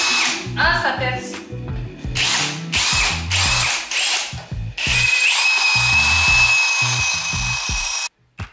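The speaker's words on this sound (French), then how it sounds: "Ah, ça perce." A power drill bores holes into a bathroom wall, whirring in repeated short bursts with stuttering grinding against the masonry, then running in one long sustained high-pitched drilling pass before stopping abruptly.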